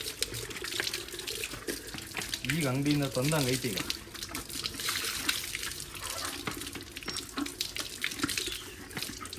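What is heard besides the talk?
water running while cleaning chicken water cans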